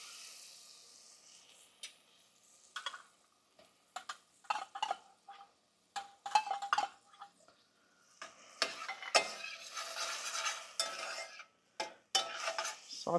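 Canned green chilies with their juice sautéing in a pan for crawfish enchiladas, a soft sizzle broken by repeated clinks and scrapes of a utensil stirring against the pan, close and fairly quiet.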